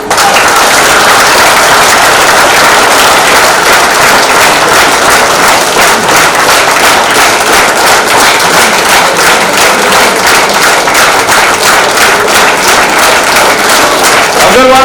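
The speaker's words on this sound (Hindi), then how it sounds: "जोर से ताली बजाइए।" A large audience at an Aggarwal community gathering claps loudly and steadily for the whole stretch, a dense, sustained wall of applause with no voices standing out.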